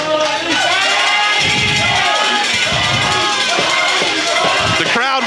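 A loud wrestling crowd at a CWF Mid-Atlantic show roars and cheers, with shouts rising and falling in waves and dull thuds underneath, continuous and close throughout.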